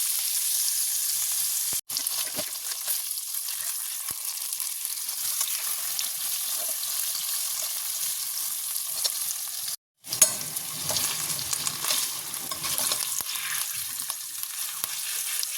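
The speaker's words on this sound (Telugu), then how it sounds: "పన్నీర్ 2 వైపులా కాల్చుకుందామండి." Paneer cubes sizzling in oil in a kadai, roasted on both sides, with a steady crackling fry punctuated by brief stirring and turning sounds and a short break near the middle.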